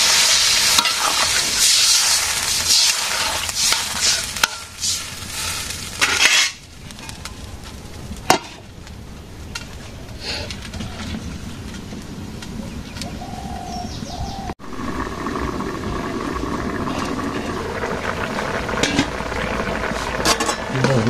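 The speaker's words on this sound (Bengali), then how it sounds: "ঝোল দিয়ে দেই তরকারিতে।" Broth poured into a simmering vegetable curry and stirred in a home kitchen, with sizzling and scraping stir sounds up close, brief pauses, and birds cooing in the background throughout.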